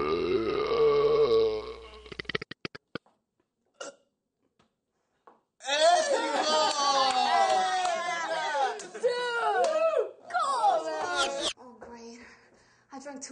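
Loud, drawn-out burps in a burping contest, voiced and croaking, come up close in bursts separated by silences, with voices chattering between them.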